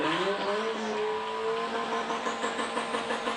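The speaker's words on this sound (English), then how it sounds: "Let's hear that engine" A car in a Bermuda Day Parade revs its engine hard, a loud rising and falling engine note held close with a gritty tire-squeal edge, no talking.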